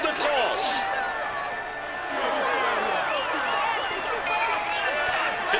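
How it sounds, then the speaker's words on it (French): A roadside crowd at the Tour de France cheers, whistles and applauds the yellow jersey winner, a lively, continuous wash of voices and clapping that swells and dips throughout. "Allez, on l'applaudit encore."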